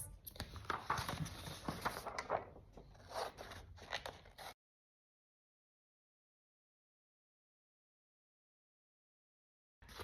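Scissors snip and scrape through paper while a jellyfish craft is cut out, a busy run of close rustling cuts for about four seconds, then silence.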